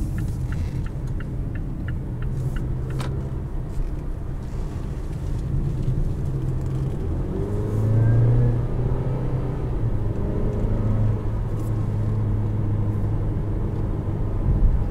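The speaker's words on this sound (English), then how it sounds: "Sport mode keeps the revs up a little bit more." A 2018 Mazda CX-5 in sport mode gives a steady, close engine drone inside the cabin, with revs climbing and holding higher around the middle before settling into a sustained hum.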